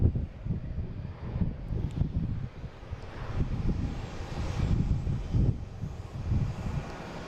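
A Delta Airbus A330-300 jet taking off at Boston Logan, heard as a steady, moderately distant engine roar with a low rumble and wind noise across the whole stretch.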